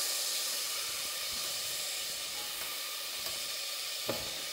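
Onion pieces sizzle steadily in a hot pot with a continuous, even hiss and one brief sharper crackle near the end, with no voices.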